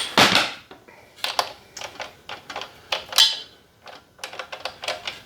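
A socket wrench ratcheting while working on a Honda CF80R three-wheeler, close, sharp bursts of rapid clicks separated by short pauses, with no talk.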